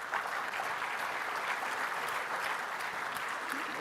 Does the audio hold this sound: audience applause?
yes